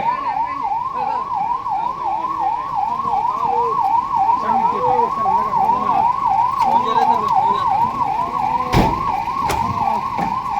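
A wailing ambulance siren rises and falls steadily throughout, loud and close, responding to a building fire and collapse at the Kakinada Collectorate, with traffic rumbling beneath and a couple of sharp knocks near the end.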